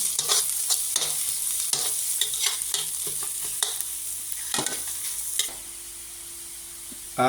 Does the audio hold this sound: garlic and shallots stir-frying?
yes